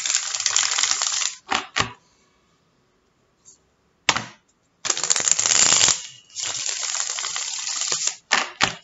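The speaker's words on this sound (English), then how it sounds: "Shuffle and we will start." Tarot cards shuffled by hand in a reading for Cancer, riffling in several bursts of quick crisp flutters separated by short pauses, close and clear with no talk.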